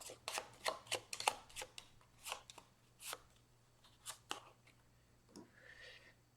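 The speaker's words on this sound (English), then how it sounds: "Shuffle this into the top 3." Board game cards for Arkham Horror third edition are shuffled in a quiet room, a string of crisp riffling bursts and flicks in irregular rhythm, close and alone with no talk.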